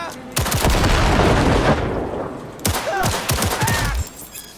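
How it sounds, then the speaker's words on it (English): Gunshots in the video game Cyberpunk 2077: a loud burst of rapid fire for about two seconds, then a second shorter volley, close and dominant with echoing tails. "see what happens if I shoot her"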